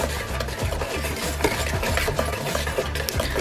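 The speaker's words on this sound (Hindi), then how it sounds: "और अब हम इसको ऐसे ही अच्छे से मिक्स करेंगे।" Potato fingers tossed with spices and crushed coriander, a continuous close rubbing and scraping of the mix against a bowl, with occasional light clinks and no talking.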